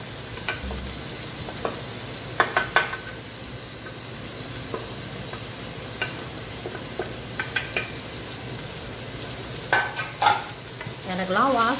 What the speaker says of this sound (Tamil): அப்போ உப்பு போட்டு வெங்காயத்தை வதக்கணும்